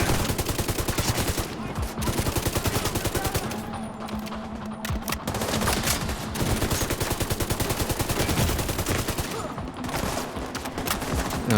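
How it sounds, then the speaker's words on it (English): Rapid gunfire setting off explosives in the shooter The Division 2, sustained automatic bursts with brief pauses, loud and close, broken by heavier blasts. "you can actually set off explosives by shooting stuff like this"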